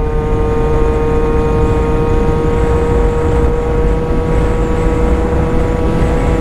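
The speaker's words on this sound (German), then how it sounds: "ich mach jetzt mal so einen dicken Drift" A Yamaha Aerox 70cc scooter fitted with a Malossi kit drifts in a street race, its engine a loud, close, steady high drone with a strong held tone and constant roar throughout.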